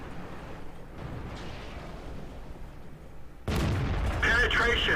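Tank cannon shots in World of Tanks from a Tiger (P) heavy tank on the Highway map, a sudden loud boom near the end that breaks through a lower engine rumble, with a voice talking over it.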